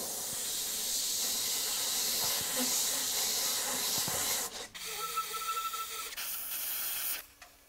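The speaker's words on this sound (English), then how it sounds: "you can do a bit of freehand airbrushing as well" An airbrush spraying paint onto a steampunk skull gives a steady, close hiss of air and paint, then stops and starts in shorter bursts toward the end.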